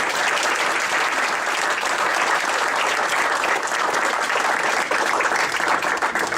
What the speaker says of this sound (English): This applause is for Derek.